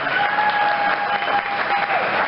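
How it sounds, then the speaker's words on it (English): A crowd claps steadily and loudly throughout, a dense wash of applause with a faint whistle-like tone running beneath it. "May we have some applause for them, please, as well."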